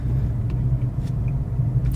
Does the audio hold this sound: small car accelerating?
yes